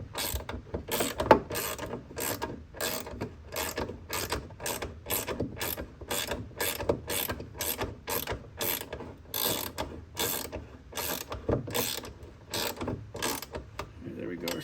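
Ratchet clicking rapidly while tightening a hood support strut on a Ford Bronco, a close run of quick mechanical clicks in steady bursts with short pauses, no voices.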